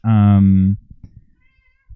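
A single loud, drawn-out cat meow up close, harmonic and sustained before cutting off, followed by faint rustling and low background sounds.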